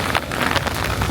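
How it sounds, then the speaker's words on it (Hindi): Steady patter of light monsoon rain hitting a surface, a dense hiss with scattered drops, brief and fairly close. "अब भाई हल्की हो गई है बारिश"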